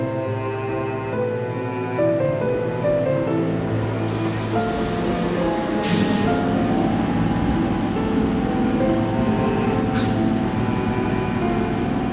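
A passenger train leaving Narayan Pakuria Murail station rolls along with a steady, loud rumble and rattle from the carriage, heard from inside, with brief hissing swells and no talk.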